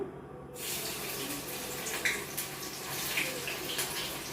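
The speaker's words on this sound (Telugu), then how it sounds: "ఆయిల్ హీట్ అయిపోయింది ఇప్పుడైతే కొంచెం వేసి వేయించుకుందాము" Slices of bitter gourd fry in hot oil in a small pan, giving a steady, even sizzle close by with a few faint pops and no talking.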